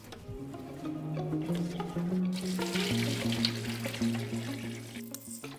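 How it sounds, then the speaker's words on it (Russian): Brine is poured over pork meat in a container for saltison, a continuous splashing liquid stream with a ringing tonal pour that shifts pitch as the vessel fills, close and moderate in level. "Мясо в посудину и залить рассолом."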